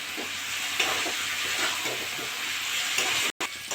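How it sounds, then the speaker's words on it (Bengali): Potatoes and peas frying and being stirred in a hot wok, a steady close sizzle with soft scraping strokes of the spoon throughout, no voices. "ভালো করে কষে নেব।"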